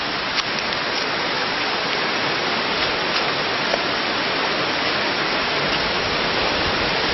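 Sai Rung waterfall dropping from a high cliff in the forest, a constant dense roar of falling water, loud and unbroken from start to finish.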